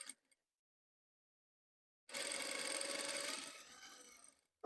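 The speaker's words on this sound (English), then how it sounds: "So I'm machining here" A sewing machine runs a continuous stitch along a pocket bag hem for a French seam: one close burst of rapid mechanical whirring lasting about two and a half seconds, slowing at the end, with brief handling clicks before and after.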